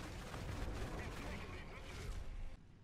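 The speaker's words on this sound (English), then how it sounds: "he's still shooting at me" Heavy tank cannon and gunfire in War Thunder, with an enemy firing high-explosive rounds, rumble as a dense continuous barrage, fairly quiet and distant, cutting off abruptly near the end.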